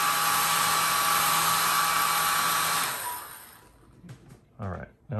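A hot-air blower warms a decal, a loud, steady whooshing hum that lasts about three seconds and then cuts off, followed by a person speaking.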